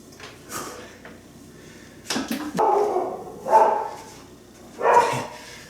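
A dog barks three times in a home gym during a barbell lever triceps pushdown workout, loud close woofs spaced about a second apart after some faint earlier yaps.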